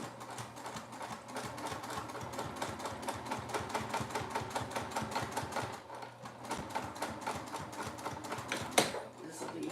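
Sewing machine running steadily while top stitching a seam open, a fast rapid needle chatter that continues almost without pause, with a brief lull near the middle and a sharp click toward the end; a voice talks over it.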